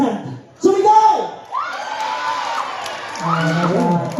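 Fiesta crowd at a live town-fiesta band show in Labrador yells and whoops in support of the first contestant, a burst of loud mixed shouting and cheering that swells twice, with a few voices rising above the rest.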